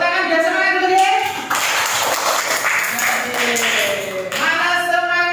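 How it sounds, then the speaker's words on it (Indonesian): Class of second-grade children clapping hands together in a burst of rhythmic applause, with a teacher's voice and kids' speech over it. "Tepuk tangan biar semangat dulu ya."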